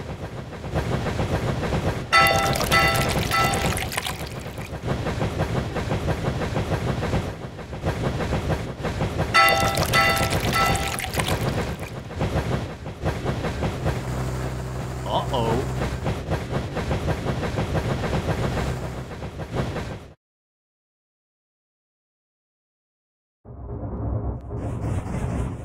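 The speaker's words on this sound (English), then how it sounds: "The dinosaur train pulls ahead!" A dinosaur train in a children's racing video game rumbles along steadily with rhythmic clatter and bursts of hiss, continuous and loud, then cuts to silence before resuming briefly.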